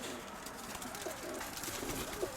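Pigeons cooing nearby outdoors, soft repeated low calls over a steady broadband background hiss of street ambience.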